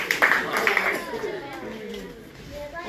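Children at an orphanage burst into a short round of clapping that quickly fades, leaving voices talking over the room's background.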